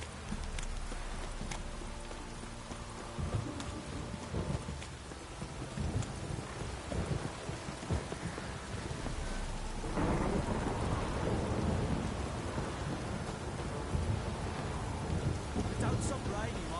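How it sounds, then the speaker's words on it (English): Steady heavy rain with rolling thunder rumbling throughout in the video game The Witcher 3, a louder surge of downpour midway, plus faint hoof-like clopping in the background. "Don't stop raining, my arse will rot off."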